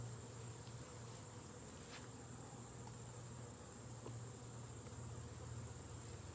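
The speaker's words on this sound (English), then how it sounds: "Lots of bees crawling around, but it's all completely empty comb." Honeybees crawl over empty comb in an opened backyard hive, giving a steady, soft, close buzzing hum that carries evenly throughout with no talking.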